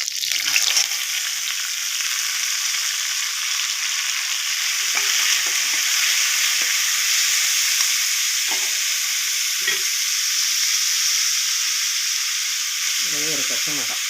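Chopped onion sautés in a pan with spices for karamani sundal, a steady bright sizzle close up for fourteen seconds, broken by occasional soft clinks and scrapes of stirring.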